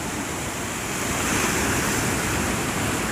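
Steady roar of ocean surf washing along a Barbados beachfront boardwalk at Hastings, a continuous close wash of breaking waves with some wind, no voices.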